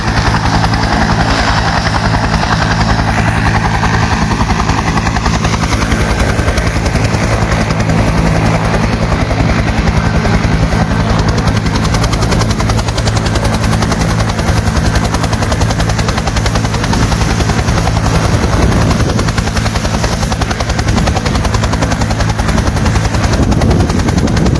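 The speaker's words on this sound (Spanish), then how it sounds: "Ahí podemos observar al helicóptero." Loud, continuous helicopter rotor noise over a football field in San Lorenzo, Tamaulipas, Mexico, close and throbbing steadily overhead for the whole stretch.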